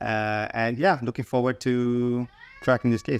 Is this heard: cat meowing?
yes